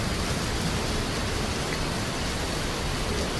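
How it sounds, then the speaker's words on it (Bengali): Heavy rain pours down steadily in Bangalore, a dense, unbroken hiss of falling water that stays loud and even throughout with no voices over it. "এখন ব্যাঙ্গালোরে খুবই বৃষ্টি, খুবই প্রচণ্ড বৃষ্টি হচ্ছে।"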